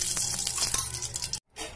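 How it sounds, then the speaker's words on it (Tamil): Two spoons of sesame oil pour into a kadai on a stove for egg fried rice, a close, steady hiss of liquid that cuts off abruptly near the end, then resumes briefly and more softly. "இப்போ நம்ம எடுத்து வச்சிருந்த நல்லெண்ணெயில ரெண்டு ஸ்பூன் ஊத்துக்கோங்க."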